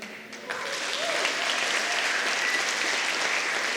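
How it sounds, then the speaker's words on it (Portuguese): A crowd breaks into loud, sustained applause during a church service, steady clapping filling the room, with a few voices mixed faintly underneath. "Aplauda o seu Jesus bem forte, mais forte que é para Ele."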